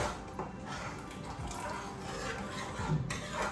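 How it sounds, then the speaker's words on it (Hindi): Water poured into fried masala for besan kofta curry in a home kitchen, a soft steady liquid pour with faint drips and sizzle, close and continuous. "ये हमारा मसाला भून गया, अब मैं इसमें पानी डाल दूँगी।"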